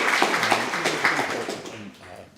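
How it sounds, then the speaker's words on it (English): Audience applause at a London startup pitch-battle evening, a steady patter of many hands clapping in a room, moderately loud, with some voices underneath, easing off toward the end. "big round of applause for Eleanor"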